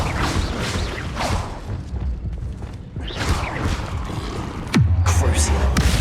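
An Incendio fire spell in Hogwarts Legacy sweeps through with whooshing bursts and crackling rushes, followed near the end by a loud, sustained low roar of flame; no speech is heard over the effects.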